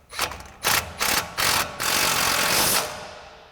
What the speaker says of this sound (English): we'll take our 12mm socket on our impact, tighten this down